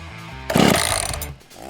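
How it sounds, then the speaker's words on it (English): A small chainsaw cutting through ice in an animated Yosemite National Park story, a loud half-second roaring burst that rises over a low hum and then fades, with no voices. "Damien will use the little chainsaw he has from earlier to try to get Whitaker free"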